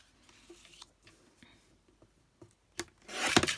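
Paper is trimmed for a photo folder. Small scrapes and taps come first, then a louder rasping cut rises near the end, close up with no talking.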